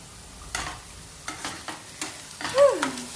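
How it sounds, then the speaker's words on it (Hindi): Onions frying in a pan for a soybean dish, a soft sizzle broken by several distinct stirring scrapes, close by, with a brief squeaky tone near the end. "बस कांदा फ्राई हो जाए"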